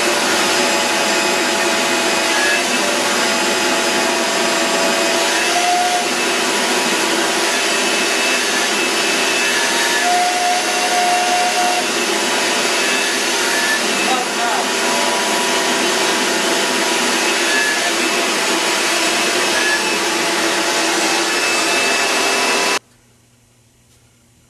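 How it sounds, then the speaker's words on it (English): A vacuum cleaner draws air out of a large plastic bag, roaring loud and steady for over twenty seconds before cutting off abruptly, leaving quiet. "I'll begin to take the air out of the bag by way of vacuum cleaner"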